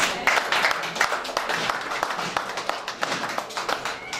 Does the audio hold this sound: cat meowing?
no